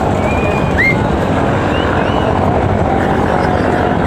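The MV Emkhan-7 passenger launch pulls away from Dhaka on an Eid special trip to Barishal, heard from the top deck as a loud, unbroken roar of engine and wind with a few faint whistles.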